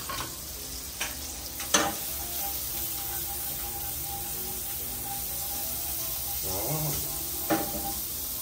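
Margarine sizzles steadily in a hot pan for a tofu dish, a soft continuous frying hiss with a few brief stirring clatters and scrapes near the start and end.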